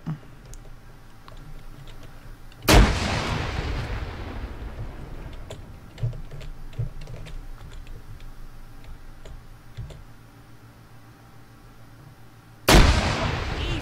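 Grenade blasts in a Halo mod battle against elites: two sharp, loud explosive bursts several seconds apart, each with a long rumbling decay, over a steady game background scattered with faint clicks and small impacts.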